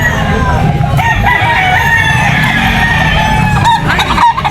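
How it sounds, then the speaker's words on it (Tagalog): Fighting roosters, cocks and bull stags, crowing repeatedly at a busy pet market, several loud overlapping calls close by over constant crowd and market noise. "Cock tsaka bull stag yung dala ni Boss Hapon."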